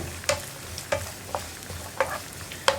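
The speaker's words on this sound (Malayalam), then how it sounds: "അപ്പോൾ നമ്മുടെ തേങ്ങക്കൊത്തൊന്ന് ഫ്രൈ ആയി വന്നിട്ടുണ്ട്" Coconut pieces frying in a pan for cherupayar payasam, a spoon scraping and tapping in about five sharp, evenly spaced strokes over a quiet background sizzle.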